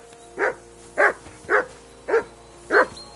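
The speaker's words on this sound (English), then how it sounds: "Whistle at that mutt of yours to stop barking!" A dog barks in the medieval game Kingdom Come: Deliverance II, five evenly spaced, fairly close barks about half a second apart over a quiet background.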